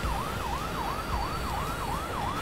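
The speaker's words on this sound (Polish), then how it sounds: "Dobra, podjedziemy sobie karetką." Ambulance siren from the firefighting strategy game Fire Commander, a steady wailing sweep rising and falling about twice a second, loud and continuous over a low rumbling game background with no talk.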